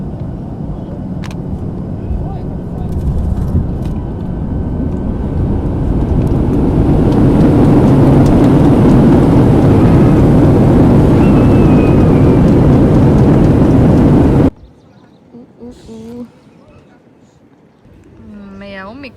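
Steady, loud, broad engine roar fills a passenger jet cabin during a night flight to Hurghada, Egypt. It builds slightly and holds for about fourteen seconds, then cuts abruptly to a much quieter stretch with faint sounds.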